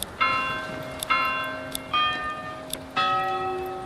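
Church bell in the medieval city-building game Manor Lords, struck four times at an uneven pace, each ringing tone decaying slowly into a faint background, with no talking.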